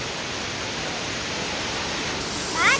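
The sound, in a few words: waterfall with swollen flow after rain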